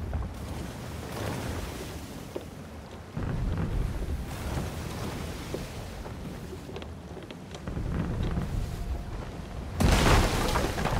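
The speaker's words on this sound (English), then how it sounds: "it looks like the Lightning are on a tear" Thunder and lightning strikes roll through a stormy sea in Sea of Thieves: deep, broad rumbling booms swell in three waves, the last one loudest, over a constant background roar, with no talking.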